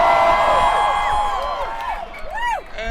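A large outdoor rally crowd in Washington Square Park, New York, cheers and roars in a sustained, loud wash, with whoops and whistles rising over it and a brief dip before swelling again.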